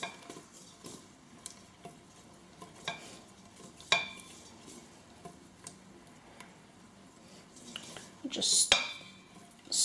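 An oil mixture for a neem and oregano hair oil being stirred in a pot: light scraping and clicking of a utensil against the pot, irregular and close, with a sharper clatter near the end and brief talking.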